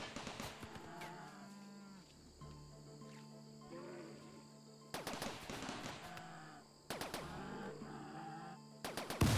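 Defensive turrets firing at a herd of rabid toxalopes in RimWorld, sharp bursts of rapid shots breaking in over loud cattle-like mooing and bellowing from the animals, with crickets chirping in the background.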